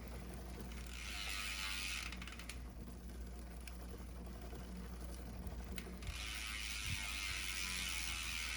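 Ratchet tightening the mounting bolts on an e*thirteen LG1 Plus chainguide with bashguard on a bicycle, two rapid runs of fine clicking separated by a quieter pause, close and faint.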